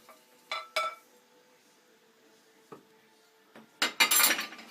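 Buckwheat sprouts mixed in a bowl, giving a few sparse clinks and scrapes of a utensil against the dish, then a louder flurry of clatter at the close.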